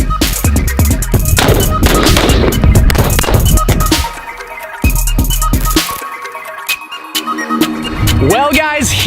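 Gunfire aimed at a military edition Rezvani Tank armored SUV crackles in rapid, loud bursts and fusillades, then thins to scattered sharp shots with quieter gaps and a brief voice near the end.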